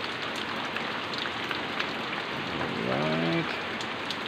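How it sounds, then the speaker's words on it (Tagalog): Heavy early-morning rain pours down steadily on a Sunday, a dense, even hiss of drops on surfaces with no letup, and a brief faint voice-like tone rises briefly near the end. "lakas pa yung ulan mga katropa."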